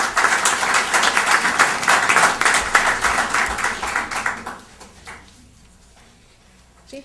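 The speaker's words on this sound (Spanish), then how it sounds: "A todos ellos recibimos con un fuerte aplauso," Audience applause fills a conference hall at an international arbitration congress, steady clapping for about four seconds before thinning and fading out into near silence.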